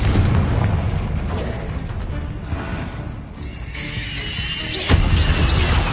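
Confringo spell blasts in Hogwarts Legacy, booming explosions with crashing debris that fill the whole stretch loudly, a rumbling boom bed and a sharp fresh blast just before the end.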